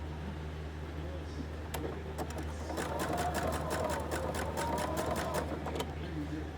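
Sewing machine stitching fabric, a fast rattling run of needle strokes that starts unevenly and settles into a steady mechanical chatter, close and moderate over a low motor hum, with soft talk nearby.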